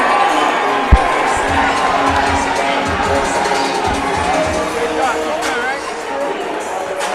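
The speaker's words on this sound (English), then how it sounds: "Listen to this crowd right now." Crowd at an amateur cage fight event roars and cheers continuously and loudly, a dense wash of shouting voices with one sharp thump early on; a commentator talks over it.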